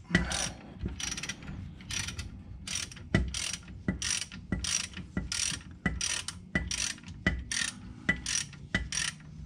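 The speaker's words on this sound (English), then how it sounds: "Let's go ahead and finish pulling this bolt." A ratchet clicks in repeated quick bursts while loosening a bolt on the rear differential of a 2001 Jeep XJ, close up and crisp, with short pauses between strokes.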